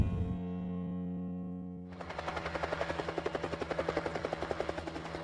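A helicopter's rotor thumps in a fast, steady pulse, loud and close, after a brief tonal hum at the start, flying over New Mexico to gather wild horses.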